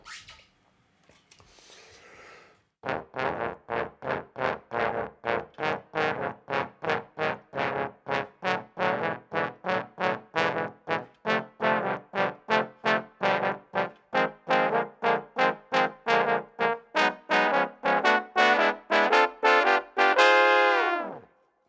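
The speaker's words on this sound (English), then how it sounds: "On trombones, let's hear what that sounds like." A trombone section plays a long series of short, punchy chords, one after another in a steady pulse, ending on a sustained chord; no voices.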